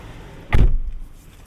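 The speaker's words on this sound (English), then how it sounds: "Door sound is alright. It's kind of solid" A car door on a Jaecoo J6 closes once with a solid, fairly loud thud, followed by a brief fading rumble in a quiet interior.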